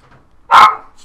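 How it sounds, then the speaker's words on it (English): A dog barks once loudly downstairs, a single sharp, close bark standing out from a quiet room. "Dog's gone mental downstairs."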